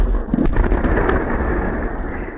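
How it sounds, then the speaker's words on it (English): An explosion at a Russian airbase recorded on a CCTV camera: a loud, dense, muffled blast with rumbling low-end roar that continues steadily for a couple of seconds, with no talk. "An explosion at a Russian airbase."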